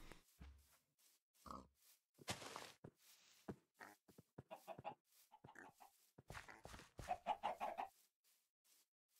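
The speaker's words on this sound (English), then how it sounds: "those chickens, shut up, you're not getting fed" Chickens cluck in a Minecraft game, a series of short, clipped clucks scattered irregularly with brief pauses, fairly close and with no talking.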